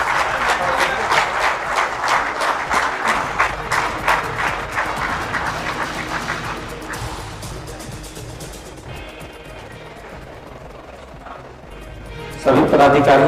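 Applause from a crowd welcoming a guest at a Jharkhand administrative service association event, a dense round of clapping that fades over several seconds, with speech over the room and a louder burst at the end.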